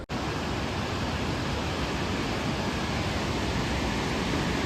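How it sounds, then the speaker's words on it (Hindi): A mountain waterfall pours down from above beside a trail on a pilgrimage trek, a dense, steady roar of rushing water filling the whole stretch without a break, loud and close. "वो ऊपर से झरना आ रहा है"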